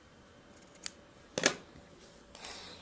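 Scissors snip through sewing thread after hand hemming, giving a few light ticks followed by one sharp, close cut and a fainter second snip near the end, with no voices.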